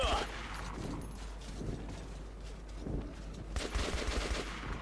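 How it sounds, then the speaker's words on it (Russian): Gunfire from a machine gun in Metro 2033 Redux rattles in dense bursts through the scene, loud and close, with a voice talking over the shooting. "Сколько я уже патронов выстрелил, даже оно не перезаряжается"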